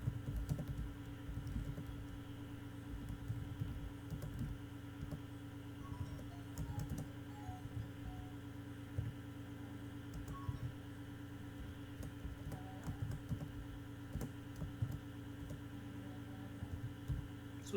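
Quiet typing of Java code on a computer keyboard, soft scattered key taps over a constant low fan hum and background drone.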